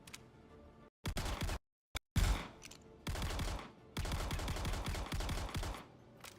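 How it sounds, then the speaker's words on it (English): Rapid automatic gunfire in the Star Citizen video game empties a whole magazine in several loud, close bursts, separated by brief silences, then fires in longer sustained strings. "Let's just do a quick mag dump."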